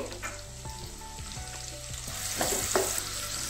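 Thin onion slices sizzle in two tablespoons of oil for a village-style mushroom curry, a close, continuous frying hiss broken by regular scraping stirs of the pan.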